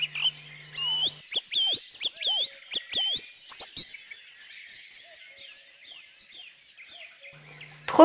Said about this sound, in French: Les grives musiciennes.